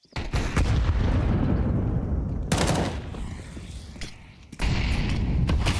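A gunfire spray in Counter-Strike during an IEM Cologne Major esports match: loud, rapid automatic bursts come in three waves, near and punchy, with brief gaps of rumble between them.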